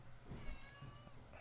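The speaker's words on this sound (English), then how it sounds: "And that's my cat in the background." A pet cat meows faintly in the background of a quiet room, a short soft call or two heard over low room noise.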